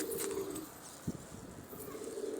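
A white homing pigeon coos in a low, repeated throaty call, close by, with a soft short flutter or thump in the middle and faint background noise.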